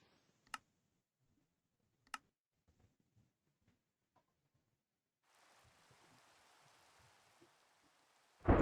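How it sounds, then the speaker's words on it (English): Rain falls in Minecraft Java 1.17.1 running shaders. A few sparse clicks come first, then a soft, steady hiss of rainfall sets in partway through, with a sudden loud burst right at the end. "So as you guys can see, it is raining."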